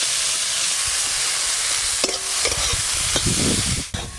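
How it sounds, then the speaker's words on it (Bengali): Sour fruit chutney being stirred as it fries in a pan on a clay stove, a steady close sizzle with scraping stir strokes and clinks through the middle of the clip, no voices. "লবণ, এইভাবে নাড়তে নাড়তেই খানিকক্ষণ পর জেলির মতো হয়ে যাবে।"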